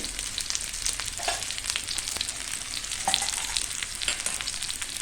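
Taro leaf rolls (alu vadi) shallow frying in hot oil in a home kitchen give a steady, close sizzle with fine crackling spatters throughout, with no voices.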